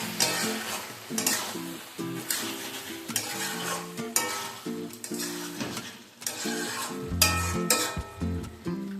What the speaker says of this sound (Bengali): এতে আমি হাফ টিস্পুন গরম মশলা অ্যাড করে দিলাম। মিশিয়ে নেব একবার।